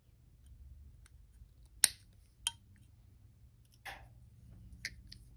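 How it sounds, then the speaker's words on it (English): Wire cutters snip short pieces of wire while making twisted wire bar links, giving a few sharp, quiet clicks spaced apart over a faint low hum, with no talking. "cut this little bit off here"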